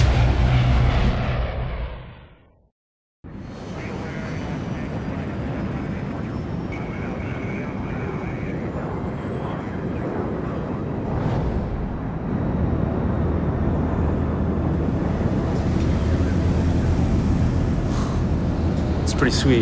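Steady drone of an airplane engine heard from inside the cabin in the Splinter Cell: Blacklist video game, a constant rumble that starts after a brief silence and continues evenly, slightly swelling later on.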